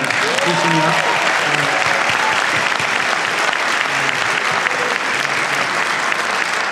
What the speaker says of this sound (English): I wouldn't mind it if you guys just kind of gave me a round of applause right now